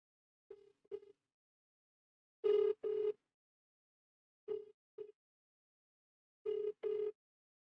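Phone ringback tone on an unanswered call, sounding in three paired bursts a couple of seconds apart, clear and moderately loud with silence between, no talking.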